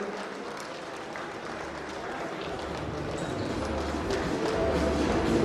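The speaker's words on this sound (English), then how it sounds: "I want you all to stand up and give a round of applause for Choppies and its partners" An audience at a prize draw event applauding, a dense steady wash of clapping that swells slightly louder toward the end, with a low murmur of voices underneath.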